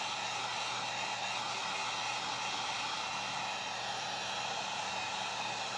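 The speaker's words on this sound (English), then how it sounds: "all you need to do is just heat up your foam and get it really hot and melted" A heat gun blows steadily on craft foam to soften and melt it for cosplay armor, a continuous close airy roar with a hissing top that holds even for several seconds, with no talking.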